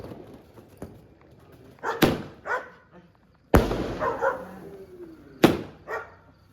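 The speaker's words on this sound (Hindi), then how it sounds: "बिल्कुल धमाकेदार पटाखे एकदम मस्त।" Several sharp firecracker bangs burst out one after another at the start of Diwali, loud and close, with crackling tails and scattered background noise between them.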